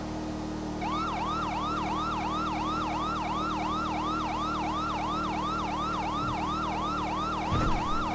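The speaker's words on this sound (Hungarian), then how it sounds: "Most szirénázok." Video game police car siren, a loud repeating wail in regular rising sweeps over a steady engine hum, ending with a brief thump.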